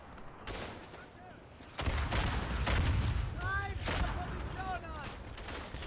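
Artillery shells bursting in the World War I shooter Verdun, heavy booming blasts and rumbling explosions that build and keep rolling, with gunfire cracks and whistling incoming rounds, and a voice talking over them.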